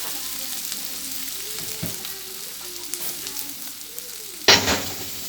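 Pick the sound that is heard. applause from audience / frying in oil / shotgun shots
frying in oil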